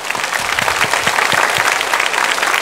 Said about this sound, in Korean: 우리 환영의 박수 한번 치겠습니다